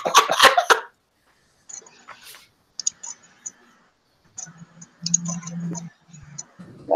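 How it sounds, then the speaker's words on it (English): Someone coughs in a few quick, harsh bursts close by at the opening, then quieter clicks and murmuring voices follow in a room during a tabletop game session. "Quit coughing."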